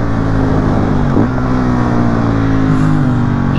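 Loud, close KTM 690 SMC R motorcycle engine, 2020 A2-restricted model, revving hard as it accelerates, a rough throbbing roar that holds strong throughout.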